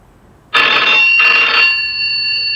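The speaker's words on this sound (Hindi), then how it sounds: "अमर का फोन आ जाएगा।" A telephone bell rings in two loud, close bursts, the second trailing into a fading electronic tone.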